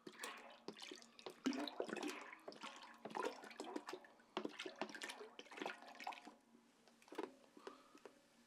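Two liters of ginger ale poured into a punch bowl make a faint, continuous gurgling splash with bubbly, fizzy texture throughout, and no talking.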